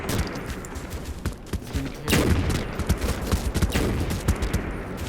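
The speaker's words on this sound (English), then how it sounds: "Shooting at him" Rapid bursts of gunfire in the shooter game Firefall, with dense overlapping shots throughout and a heavier volley near the middle.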